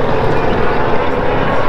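Powerful boat engines roar loudly and steadily as speedboats race past on Lake Wylie, a dense droning wash of motor noise with no clear talking.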